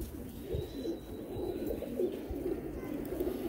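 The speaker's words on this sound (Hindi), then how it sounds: "बड़ा मजबूत कबूतर है जी उड़ान का" Pigeons coo softly and repeatedly in a low steady murmur, with faint background noise.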